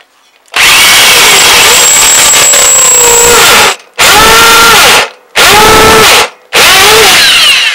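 A power drill enlarges bolt holes in wooden footboards, running in four loud, close bursts of whirring with rising and falling pitch and short silent pauses between them.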